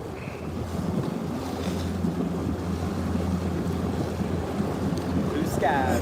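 Steady wind roars over open water on a bass fishing boat, a loud, constant rumble buffeting the microphone, with a low hum underneath and brief faint voices.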